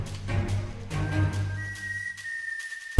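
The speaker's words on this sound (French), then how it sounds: "l'homme s'est préparé à siffler" A man whistles one long, steady, high note that holds to the end. It is fairly faint over low rumbling background sounds.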